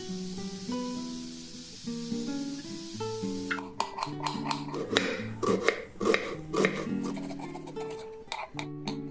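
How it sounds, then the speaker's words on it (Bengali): Boneless chicken being cut into small pieces with a knife, producing a quick run of close, irregular chopping taps and rubbing scrapes against a cutting surface, over a low steady background hum. "এখানে চিকেনগুলোকে আমি একটু কেটে ছোট করে নিচ্ছি"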